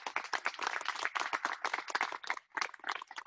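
An outdoor crowd claps steadily at a Hiroshima Day commemoration, dense and continuous with one brief dip before it picks up again.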